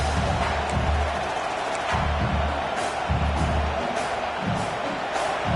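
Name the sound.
stadium crowd at Nebraska football game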